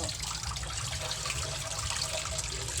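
Water splashes and runs steadily at close range while a pet is bathed, a continuous wash of liquid noise with no voices.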